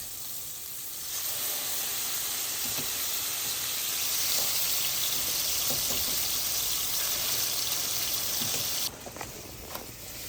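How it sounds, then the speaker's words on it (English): Chicken varenyky dumplings sizzle steadily in a frying pan, a loud, even hiss with scattered pops and crackles that runs unbroken for most of the stretch and drops away near the end. "Ready for that sizzle?"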